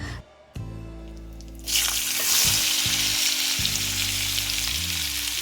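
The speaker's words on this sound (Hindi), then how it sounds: "तो आलू और कैप्सिकम मैं पहले फ्राई कर लेती हूँ" Potatoes and capsicum fry in a kadhai, a bright, loud sizzle that bursts up about midway and keeps hissing, preceded by clanking utensil sounds and a brief quiet moment.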